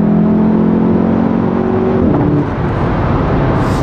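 Volkswagen Golf R accelerating hard in fourth gear, a loud steady engine roar rising in pitch with a brief dip around a gear change, heard close from inside the car with no talk.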